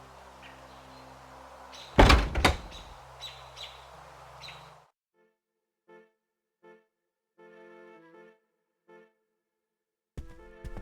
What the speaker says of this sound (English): And this is the entrance door.